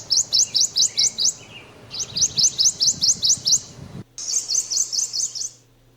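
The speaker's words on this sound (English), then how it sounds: "The song of the Prothonotary warbler is a loud tweet, tweet, tweet" Three bursts of loud, ringing Prothonotary warbler song, each a rapid series of about six to eight identical sweet notes, close and clear with a faint background hum.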